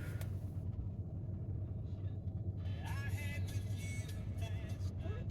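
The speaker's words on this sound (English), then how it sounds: "Sounds like a diesel. A Duramax." A stock Duramax diesel engine idling with a steady low rumble throughout, nearby and continuous, while people talk over it.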